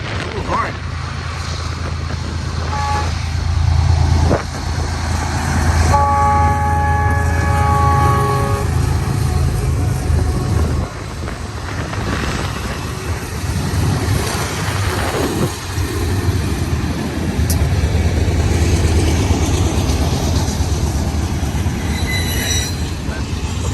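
A BNSF heavy manifest freight train with seven locomotives, including a distributed power unit, climbs toward Cajon Summit. Its loud multi-tone horn sounds a sustained blast mid-clip over the steady deep rumble of the engines and rolling cars.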